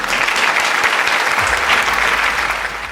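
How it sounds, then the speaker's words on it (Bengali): A studio audience at a student quiz show claps loudly and steadily for a team in a dense, sustained burst that tapers slightly at the end. "টিমের জন্য একটা জোরে হাততালি"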